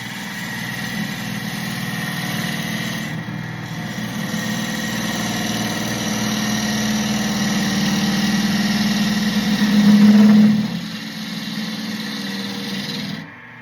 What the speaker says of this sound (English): I think I'm gonna have to already put this in on the grinder.